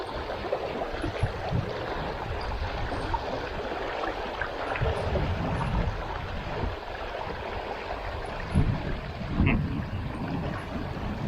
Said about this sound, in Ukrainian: Продуває вітер таку дугу, що не можеш проводку зробити